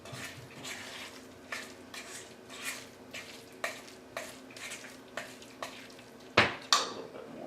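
Cornmeal stirred by spoon into a thick black bean burger mixture in a bowl: a steady series of soft, regular scraping strokes, ending with two louder clattering knocks, close up and without speech.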